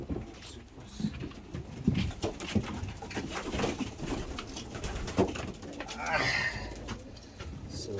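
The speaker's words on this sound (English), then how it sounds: "So there's our one and only bird." A single racing pigeon coos softly while being handled for vaccination, the low throaty burble rising near the end over handling rustles and a person talking nearby.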